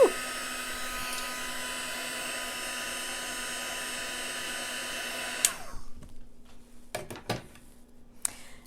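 A heat tool blows steadily on a handmade birthday card with a loud, even whirring rush for about five seconds. It cuts off abruptly, followed by a few faint clicks and handling taps.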